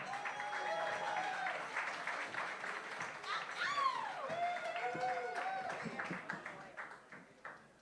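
An audience at a Climate Week NYC live event applauds and cheers as speakers come on stage, with sustained clapping and whistles that fade toward the end.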